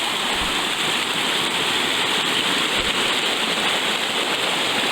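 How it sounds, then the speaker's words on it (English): A brook runs along a logging-country trail near Little East Pond, a steady, loud broadband rush of flowing water that stays constant with no voices. "Got a brook crossing right here."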